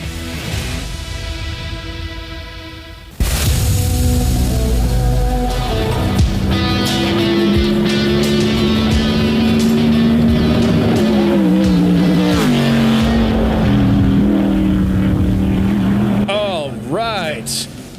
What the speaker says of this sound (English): Those were car sounds from a mutual friend of ours.